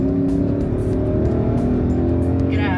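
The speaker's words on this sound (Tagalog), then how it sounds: "Yung lakas nitong V8. Sa papatunogin lang natin dito sa paahon." A Nissan Patrol's V8 engine revs hard while climbing a slope, a loud continuous low-pitched roar with steady harmonics that holds across the whole stretch, heard from close inside or beside the SUV.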